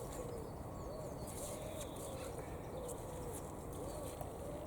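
Birds call softly in a quiet kitchen garden after storms, with faint repeated chirps and warbles over a steady low background hum.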